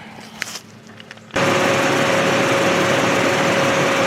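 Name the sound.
2002 Mustang 3.8 V6 engine idling while warming up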